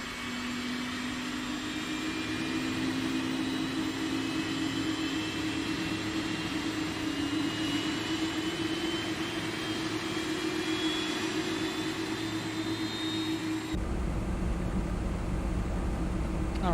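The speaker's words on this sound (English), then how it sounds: "Alright, so there's engine number 4 coming online" A Boeing 747-400's number 4 engine spools up, a steady loud turbine roar with rising whining tones that holds throughout before the sound abruptly shifts near the end.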